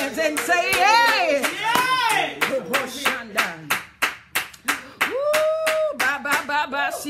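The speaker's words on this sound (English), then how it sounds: "Somebody to clap your hands and say, hey!" A church congregation claps along in a rhythmic, uneven pattern of sharp hand claps under a preacher's loud, sung and shouted voice that carries through most of the stretch.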